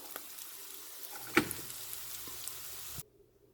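Radish pieces fry in oil with a soft, faint sizzle, broken by one sharper clatter of the pan before the sound cuts off.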